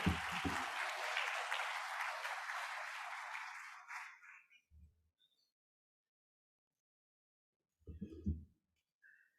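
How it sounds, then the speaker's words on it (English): A crowd at a keynote address applauds loudly for about four seconds, the clapping fading out, followed by brief low thumps and near silence. "can I get a big round of applause for Jenna Sudds?"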